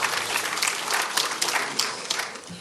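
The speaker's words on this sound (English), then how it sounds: "Round of applause to Borno State." Dense applause from a studio audience at a televised quiz contest, a continuous fairly loud patter of many hands fading slightly at the end.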